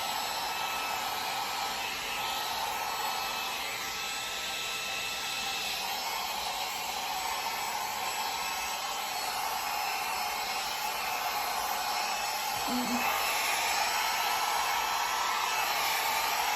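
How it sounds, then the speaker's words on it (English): A hot air brush blows steadily through a synthetic wig, a constant loud whooshing hiss of motor and airflow held close for the whole stretch, with no talking. "Okay, I got my hot air brush."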